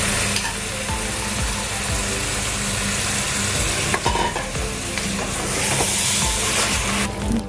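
Minced meat keema frying and being stirred in a pot for khichdi, a dense steady sizzle with repeated scraping strokes of the spoon against the metal, loud and close, no talking.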